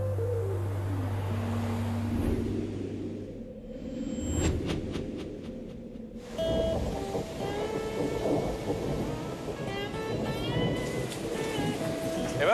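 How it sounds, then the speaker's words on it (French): Rain falls on a construction site in Manitoba, with rolling thunder and a steady wash of rainfall throughout, joined partway by scattered tonal sounds and brief sharp clicks from the site. "Et la pluie est au rendez-vous."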